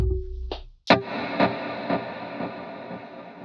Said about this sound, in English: my settings on my delay and reverb were like this